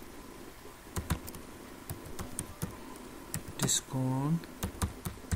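Keys clatter on a computer keyboard as text is entered for a sales discount limit rule, giving a brisk run of sharp close clicks, with a short spoken word in the middle.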